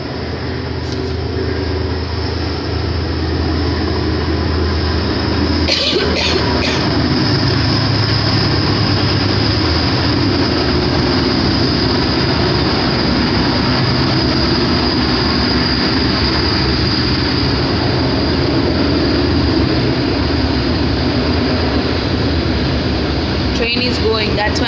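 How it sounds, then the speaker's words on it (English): A heavy, continuous roar of a train rumbling past nearby, loud and steady throughout with a few clicks along the way, drowning out a teacher's English lesson. "Train is going, that's why I'm not talking."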